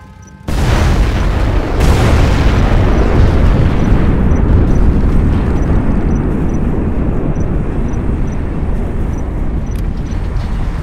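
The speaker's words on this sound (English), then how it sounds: "We have launched our nuclear missile." A nuclear missile detonates in Command and Conquer Generals (Evolution mod): a sudden, huge, loud boom that swells into a long, dense roaring rumble, with a second surge a moment later, sustained and alone for about ten seconds.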